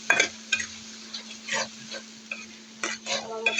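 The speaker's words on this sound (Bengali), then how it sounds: "ভালোভাবে কষিয়ে নেব।" Chicken is stir-fried with a ginger-garlic spice paste: a spatula scrapes and knocks against the pan in uneven bursts over a faint sizzle, close and fairly quiet.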